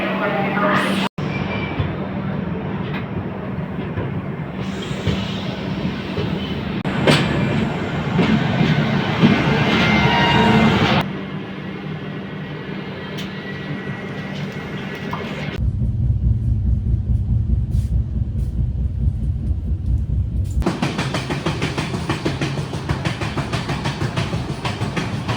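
The Samaleswari Express from Jagdalpur to Howrah rumbles along the rails, a loud continuous rolling din heard from inside that shifts in tone several times, with faint voices in the background.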